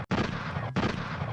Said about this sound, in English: I'm gonna hit the gunshots